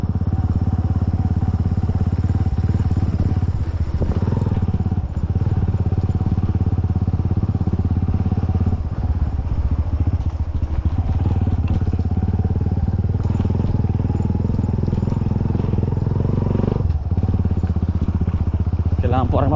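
A motorcycle rolls slowly over a rough road toward a lanzones harvest area in Barangay Alupay, its engine droning steadily with clattering bumps, while someone talks over it throughout.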